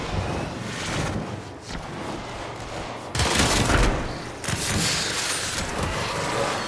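Dense pistol gunfire from the video game Warframe, a continuous rattling barrage with heavier bursts swelling in the second half, loud and close with no talking.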